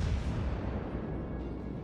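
Battleship main guns firing in the naval combat game World of Warships aboard the Amagi, a deep, heavy boom whose low rumble rolls and slowly fades across the moment.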